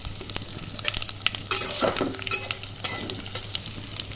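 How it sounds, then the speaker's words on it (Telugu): Garlic goes into hot oil with mustard seeds and cumin. A moderate, crackling sizzle rises into a brief burst of sharper spitting and popping, then settles back to a softer fry. "ఇప్పుడు వెల్లుల్లి వేస్తున్నాను"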